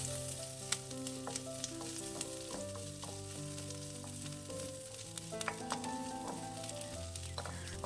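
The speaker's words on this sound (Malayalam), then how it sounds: "ഇനി ഇതെല്ലാം നല്ലവണ്ണം ക്രിസ്പി ആകുന്നിടം വരെ വഴറ്റിയെടുക്കണം." Green chilies and curry leaves fry crisp in a pan for an aval mixture, giving a quiet, steady sizzle with frequent sharp crackles and stirring clicks close up; no voices.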